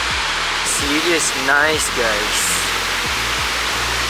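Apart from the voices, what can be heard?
waterfall near Cat Village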